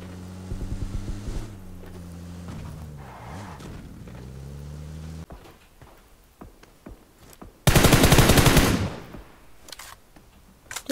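Gunfire in PUBG Mobile: several bursts of shots early on, then scattered quieter reports, and one very loud, dense blast of fire near the end.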